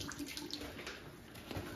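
Water is poured onto a shop towel to soak it, giving a faint, steady trickle and splash with no talking.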